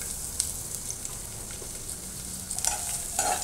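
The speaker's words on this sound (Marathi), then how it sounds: "ब्राऊन रंगावर येईपर्यंत कांदा चांगला परतून घ्यायचा आहे।" Chopped onion fries in oil in a pot with a close, steady sizzle, broken by a few sharper crackles and scraping stirs toward the end. No voices are heard.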